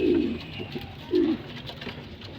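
Racing pigeons coo close by in two low, throaty bursts, soft and muffled, with a faint background hush between calls.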